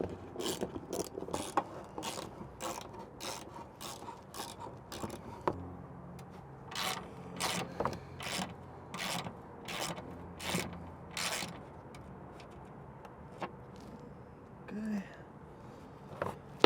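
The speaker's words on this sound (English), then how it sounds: "we're going to get the ratchet and we're going to take off these 6 bolts with this plastic air damp" Ratchet clicking as six bolts come off the plastic air dam of a Toyota 4Runner, rapid bursts of close, sharp pawl clicks in quick repeated runs, with quieter gaps between and faint mechanical handling.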